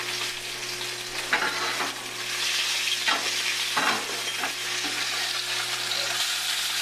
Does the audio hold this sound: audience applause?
no